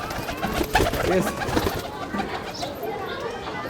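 A Kaldom pigeon coos softly on a rooftop loft, low repeated cooing calls heard close amid a murmuring background.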